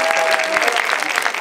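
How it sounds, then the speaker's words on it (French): An audience applauds to welcome a new filmmaker presenting his autobiographical film, a short burst of steady, dense clapping from a crowd with no voices over it. "Vous pouvez l'applaudir."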